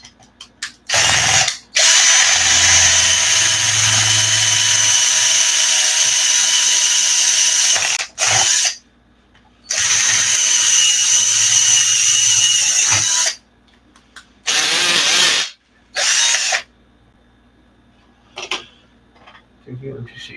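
A power drill whines in several long bursts with short pauses between them, loud and close, drilling holes in parts of an Arrma Notorious RC car, then a few shorter runs toward the end.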